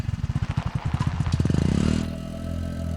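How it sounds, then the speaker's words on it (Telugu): A motorcycle approaches in a film scene, its engine pulsing in rapid, loud beats that blur into a steady rising hum as it draws close, then settles into a lower drone. "ఈ టైంలో ఎవరు బైక్లో వస్తున్నారు?"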